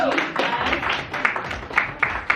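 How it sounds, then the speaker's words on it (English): A crowd at a networking event claps for Miss Avery, a burst of scattered applause with a few sharper claps standing out, under some talking. "Give her a round of applause, please."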